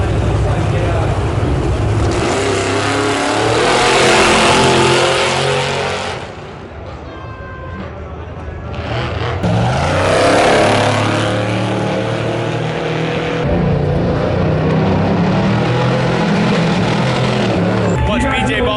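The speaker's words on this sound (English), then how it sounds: "We're at the start line now. I'm gonna watch this truck take off." A Baja 1000 trophy truck takes off from the start line of the desert race, its engine roaring loudly, easing briefly, then surging again as a heavy sustained rumble with voices in the crowd.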